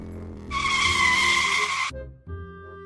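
A car brakes hard with a loud, sustained tire screech lasting over a second over the engine hum, then the engine settles and idles.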